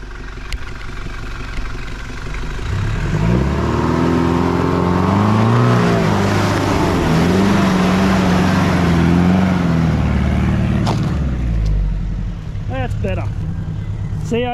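A Mahindra 4x4 engine works steadily as the vehicle crawls up a steep, grassy lip off-road, the motor swelling and holding a low labouring drone for several seconds before easing off, with people talking over it.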